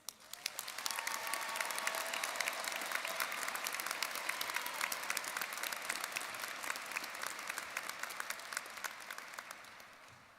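Large graduation commencement crowd gives sustained, steady applause, a dense wash of many hands clapping at moderate distance that swells quickly, holds for about ten seconds, then begins to taper.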